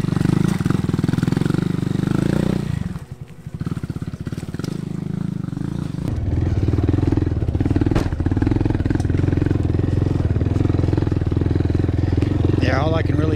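A Honda Monkey motorcycle engine labors up a rocky mountain jeep trail, revving loud and close, dropping briefly to a low idle before straining again with clattering and bursts of throttle.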